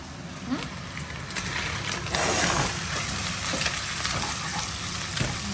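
Chicken pad thai is stir-fried in a hot pan, making a loud close sizzle with scraping spatula strokes and occasional clanks against the pan.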